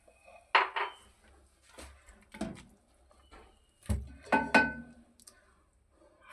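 Metal pot and lid clanking while a cooking pot of ridge gourd and egg masala is covered, several sharp close clatters and knocks separated by short quiet gaps.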